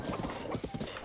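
Horse hooves gallop at a steady clip-clop rhythm in Zelda: Breath of the Wild, loud and close across a continuous run, with a brief whinny-like touch and no talking.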